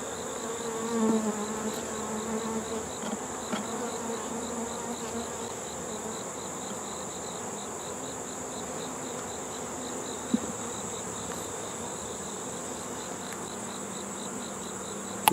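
Honeybees hum in a steady, even drone at an opened hive frame holding capped brood, a close, continuous buzz with no talk over it.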